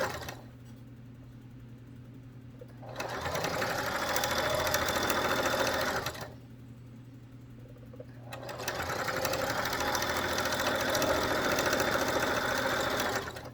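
Sewing machine stitching down a fabric seam on a simple one-piece gift bag, running steadily in two long bursts with a short pause between them, close and clear with no talking.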